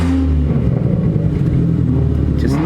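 A Ford Focus ST with a stratified tune, clutch held in, its engine revving loudly up close in a deep continuous rumble that rises in pitch toward the end.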